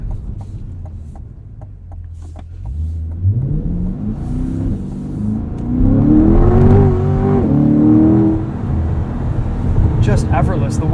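A Chevrolet Corvette accelerates hard, its engine note climbing steadily in pitch and loudness as it pulls through the revs, heard close from inside the car with some talking.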